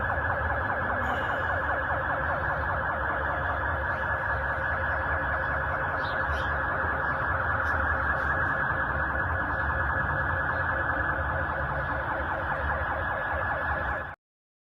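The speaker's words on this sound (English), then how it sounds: "Ice so thick, car alarms going off." Car alarms sound in freezing subarctic weather, a steady cycling electronic wail at moderate distance that runs unbroken for about fourteen seconds before cutting off.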